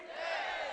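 A crowd shouts a jaikara chant together at a religious gathering honouring a 108-foot idol, a brief loud collective roar without a break.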